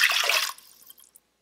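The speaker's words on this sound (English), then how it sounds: "And then you're gonna add your water into this." Water is poured into an Instant Pot, a brief splashing rush that fades after half a second into faint drips.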